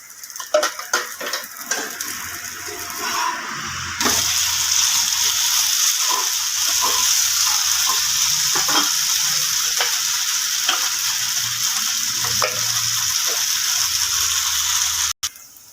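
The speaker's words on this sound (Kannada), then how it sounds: "ಈಗ ದೋಸೆ ಒಂದು ಸೈಡ್ ಫುಲ್ ಫ್ರೈ ಆಯಿತು" A moong dosa frying on a pan gives a continuous close sizzle, punctuated by irregular scraping and tapping clicks from a spatula, with no speech.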